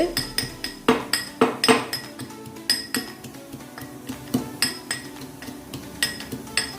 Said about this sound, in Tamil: மூண்டு கல் உள்ளியை போட்டு சும்மா மெதுவாக தட்டிட்டு